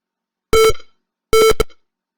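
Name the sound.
electronic beeping alert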